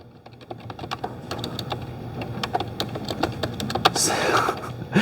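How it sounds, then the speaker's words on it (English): Fingers type on a computer keyboard in quick, uneven bursts of clicking keystrokes, close and clear, with a faint murmur of voices underneath. "I hate typing in front of groups of people."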